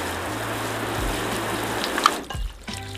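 Water sheets and trickles off a car paint panel with a soft, steady splashing hiss, under a low hum that cuts out briefly, ending with a few scattered drips and splashes.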